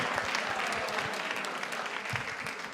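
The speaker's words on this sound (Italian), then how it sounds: "E fatelo questo ultimo applauso per il Teatro Orione" A theatre audience at a comedy show claps steadily in a brief, full-room burst, with dense, even applause throughout.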